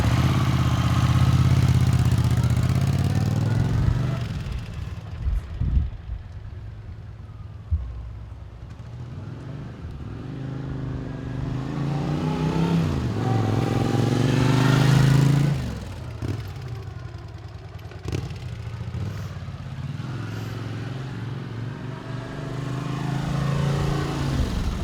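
A 1980 Honda CX500C motorcycle engine idles and revs, rising and falling in pitch with throttle blips, close and loud throughout with no talking.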